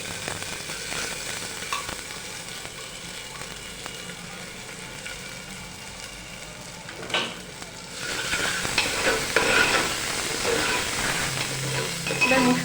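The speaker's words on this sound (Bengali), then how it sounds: "এটা তেলের মধ্যে নেড়ে নিয়ে আমরা দিয়ে দিচ্ছি" Washed red lentils are stirred into hot oil with ginger for a vegetarian bottle-gourd dal. A steady, close sizzle hisses throughout and grows louder and busier after the lentils are stirred in.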